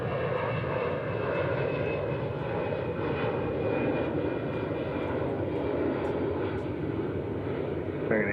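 An airliner taking off from runway 36 right at DFW airport, a loud continuous engine roar that holds steady throughout, with no talk over it.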